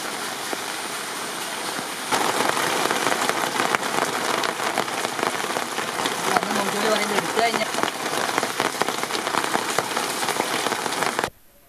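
A heavy, steady downpour pounds the ground in Karakkutty, Kodiyathur, during four days of continuous rain. The hiss grows louder after the first couple of seconds, then stops abruptly at the end.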